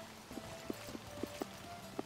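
Horse hooves clop in a steady, irregular rhythm in the medieval game Life is Feudal, faint and fairly close over a quiet background.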